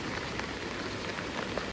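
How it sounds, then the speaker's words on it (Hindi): Heavy rain falls steadily and without pause for hours at a riverside spot with stones and soil, a dense, even hiss of drops striking the ground close by. No voices are heard. "इतनी बारिश हो रही है यहाँ पे, बहुत ज़्यादा, मतलब लगातार हो रही है सुबह से"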